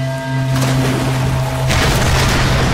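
A loud explosion from the Tomb Raider video game, a broad rumbling blast that swells and stays dense and noisy throughout, layered over a low sustained game tone without talk.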